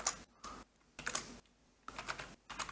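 Code is typed on a computer keyboard in quick clusters of close, crisp key clicks, separated by brief pauses, fairly quiet, with no talking.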